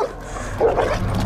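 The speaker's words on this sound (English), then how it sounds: "I can tell by the sound of their bark that they are ready to attack" Aggressive dogs bark and yip with a snarling, whimpering edge, loud and close, in a short tense burst without talk.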